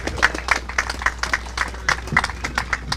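An audience applauds Mr. Gaspar Vega at a recognition award ceremony in Belize; scattered, fairly light hand claps repeat unevenly over a few seconds at moderate distance.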